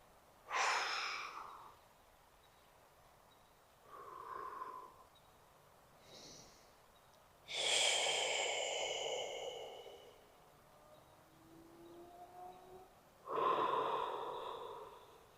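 Slow, deep breaths during a shoulder stretch, several long airy inhales and exhales spaced a few seconds apart, close and fairly soft, with no talk.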